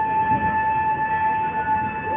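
The Avadh Assam Express pulls out of Rampur Junction, heard as a steady rolling rumble from inside the train with a faint sustained whine running through it, no voices.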